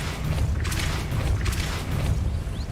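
A Depulso spell is cast in the video game Hogwarts Legacy: two whooshing bursts over a low, steady rumble, with creaking, mechanical texture and a faint rising tone at the end.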